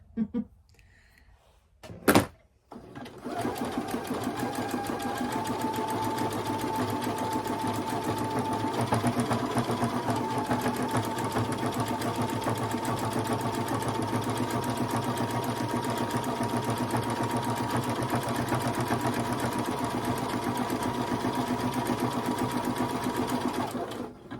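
A sewing machine stitches a pillow case, running steadily and close for about twenty seconds after a brief thump, its motor hum and needle rattle continuous and even.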